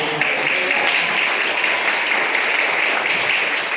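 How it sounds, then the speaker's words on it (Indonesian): Applause from a church congregation at a Christmas service, a steady dense wash of clapping that stays loud and even throughout with no break. "Tepuk tangan bagi Tuhan."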